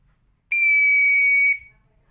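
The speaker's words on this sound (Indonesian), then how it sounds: "untuk memanggil anggota regu dengan tiupan peluit" One long, shrill whistle blast lasting about a second, sharp and steady, signalling a scout troop to get ready, then cut off into near silence.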